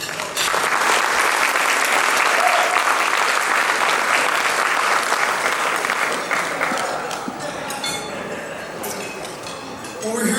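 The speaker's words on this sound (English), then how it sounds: "Please give a round of applause for Pastor Jeremy." An audience at a foundation's annual awards banquet gives a long round of dense applause that swells, holds, then gradually thins out, with occasional clinks of glassware and dishes.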